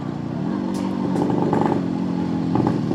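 Yamaha RX two-stroke motorcycle engine under way, a steady close buzzing drone that rises slightly in pitch, with light clatter mixed in.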